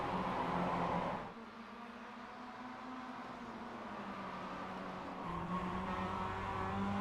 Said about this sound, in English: The tires still screaming in protest.